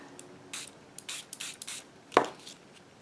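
Several short hissing bursts of spray hit the top half of an index card during a craft session, each puff brief and close, followed by a sharper tap or knock near the end.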